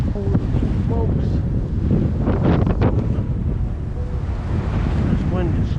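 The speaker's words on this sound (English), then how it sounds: "Super windy day." Strong gusty wind at a lake buffets the microphone with constant loud rumbling wind noise, and faint voices are heard underneath.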